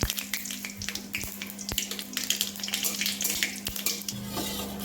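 Crackling sizzle of white mustard seeds and spices frying in hot oil, busy popping and spitting throughout with sharp snaps, close and steady over a low hum, no talking.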